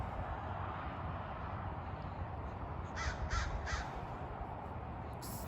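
A crow caws three times in quick succession outdoors in a mountain forest, the calls standing out over a steady broadband rush of wind and road noise, with a faint extra call near the end.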